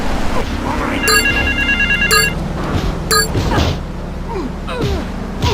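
A payphone rings in Grand Theft Auto III, three loud, sharp electronic trills about a second apart over steady game ambience and dull thumps.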